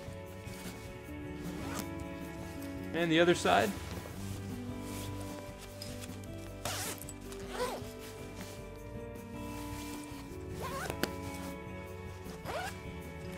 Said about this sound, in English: has zippers on both sides as well as the foot of the bag, which allows you to unzip the top and bottom